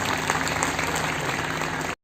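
Audience clapping at a religious Shri Ram Katha gathering, a dense, loud burst of many hands applauding together that cuts off abruptly at the end.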